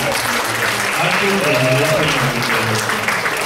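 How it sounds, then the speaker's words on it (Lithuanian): An audience at a Lithuanian school awards ceremony breaks into loud, sustained applause, thick and continuous throughout, with a few voices mixed faintly into the clapping. "audringi aplodismentai"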